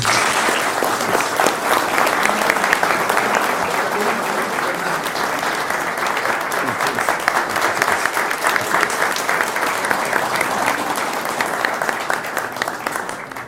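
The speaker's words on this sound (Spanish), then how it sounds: "le damos la bienvenida con un fuerte aplauso" Sustained audience applause welcoming a lecturer, the author Antonio Velasco Piña, at a civic event in Mexico; steady dense clapping fills the room throughout at an even, loud level.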